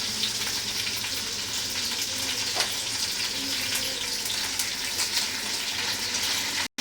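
Green chillies, ginger and curry leaves sizzle in hot oil in a pan for tomato chutney, a continuous bright crackling fry with light stirring, cut off abruptly at the end.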